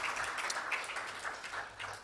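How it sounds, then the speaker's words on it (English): Audience applause at an award ceremony, a steady wash of many hands clapping at moderate distance, fairly soft and even throughout. "Big round of applause for you guys."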